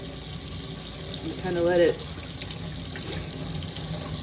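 Tap water runs steadily into a sink while water-soluble embroidery stabilizer soaks, a continuous close splashing flow that carries on under a woman's brief spoken remark.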